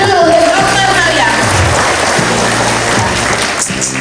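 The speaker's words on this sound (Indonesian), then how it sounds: "Tepuk tangan dulu." An audience applauds a young girl at a community event in Cirebon, Indonesia, with loud, steady clapping that carries over a low background hum.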